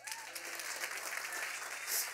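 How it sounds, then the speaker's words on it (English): A church congregation claps during a sermon, with soft, steady applause heard at a distance that continues for a couple of seconds. "Now that seems like a good thing. Clap."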